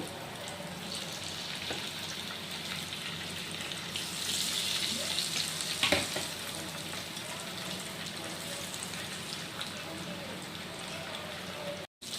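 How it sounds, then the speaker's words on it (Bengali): Pabda fish frying in hot oil, a steady broad sizzle and crackle running throughout with a sharper burst of spatter near the middle, close and fairly loud. "আর সেম প্রসেসে আমরা বাকি মাছগুলো ভেজে নেব।"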